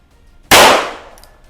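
A Taurus 942 revolver fires once in single action, one sharp, loud report that cuts in suddenly and rings off over about a second, alone with no talk.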